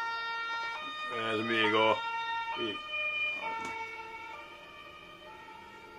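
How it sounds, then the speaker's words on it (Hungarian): Ambulance siren wailing past with rising and falling harmonic tones, loudest early on and then trailing off, heard under a voice speaking close by. "Mindig akkor megy a mentő, mikor valamit mondok."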